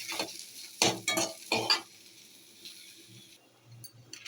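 Spices for tempering sizzle in a kadai for a tamarind okra curry, with a few sharp bursts of crackling and stirring clatter early on, then a softer continuous frying hiss.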